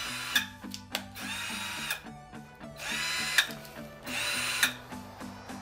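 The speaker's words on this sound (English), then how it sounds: "I'm gonna connect the battery to the drill." A battery-powered drill, just dried out after a waterproofing test, whirs in several short bursts with steady motor tone, stopping and restarting, fairly quiet and alone.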